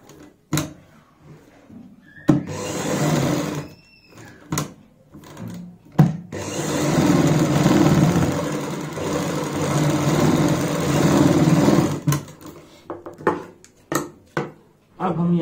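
Sewing machine stitching along the outer side of a kurti neckline, a steady whirring run of about six seconds in the middle, framed by short starts, clicks and fabric handling.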